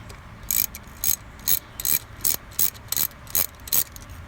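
Ratcheting wrench loosening a starter motor bolt on a Yamaha XJ650 Maxim motorcycle: about nine evenly spaced bursts of crisp clicking, close and loud, with no talk.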